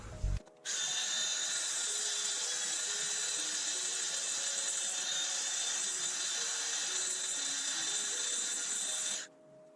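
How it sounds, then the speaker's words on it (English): A power sander grinds steadily against a BMW E46 part for about nine seconds, a loud, high, even whine that starts abruptly and cuts off sharply. "I think I'm gonna get the sander out."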